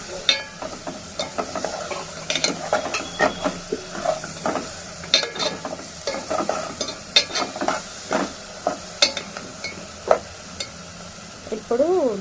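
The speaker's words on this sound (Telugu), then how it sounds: "కారం, ఇప్పుడు ఇవన్నీ మంచిగా కలుపుకోవాలి." Spices and chili powder are stirred in a pan for a raw tamarind fish curry, with a steady sizzle under repeated scraping strokes of a spoon against the pan, close and fairly loud, with no talking.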